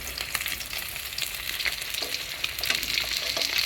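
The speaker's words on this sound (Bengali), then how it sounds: "সোনালি রঙের, সোনালি কালার করে ভেজেছি।" Pieces of chital fish fry in hot oil, giving a bright, steady sizzle with crackling pops and a few scraping stirs, close and continuous, with no voices.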